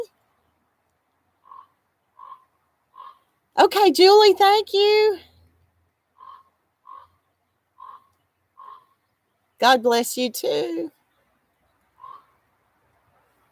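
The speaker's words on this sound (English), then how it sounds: "Believe it or not, that is not a frog. That is a crow or a raven or something." A crow or raven gives a series of short, croaking, frog-like calls, about a dozen spaced at a steady pace, separated by two stretches of a person talking nearby.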